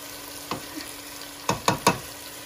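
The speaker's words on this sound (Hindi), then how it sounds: "अब यहाँ पे मैं इसमें चिकन डाल दूंगी। और इसको अच्छी तरीके से भून लूंगी।" Chicken with ginger garlic paste fries in a pan with a low continuous sizzle, broken by four sharp spatula scrapes, one early and three in quick succession toward the end, close and clear.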